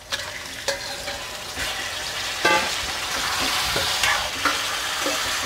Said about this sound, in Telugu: ఇప్పుడు ఈ చికెన్ ముక్కలు వేసుకుందాము